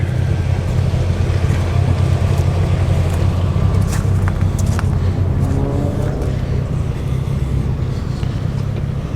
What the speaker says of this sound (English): Mark II Golf GTI has just arrived